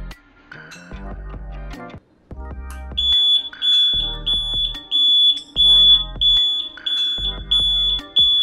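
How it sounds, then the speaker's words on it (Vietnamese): A DH48J-8 digital counter's buzzer alarm goes off once the count reaches zero, beeping loudly in repeated electronic bursts with a steady high tone and clattering pulses. "màn hình của mình đã về 0 và còi của mình đã báo động nha các bạn"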